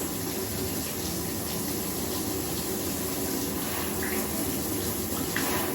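Steady rush of water pouring from a tap while hair dye is rinsed out of dreadlock roots, a constant close splashing flow with no pauses.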